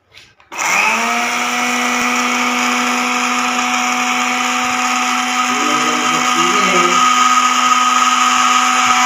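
A grinder runs steadily and loudly, whining with a strong tonal hum as it grinds ingredients for a special clay mix used in caring for black francolin birds; it starts abruptly and holds for several seconds without talk.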